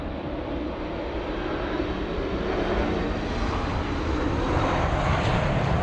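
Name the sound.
French Boeing 777 airliner passing at LAX airport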